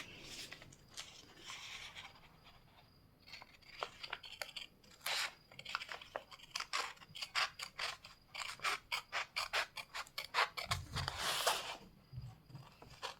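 Scissors cutting fabric in a tailoring practice session, a run of crisp rhythmic snips and crunching blade closures, close and fairly quiet, with no talking.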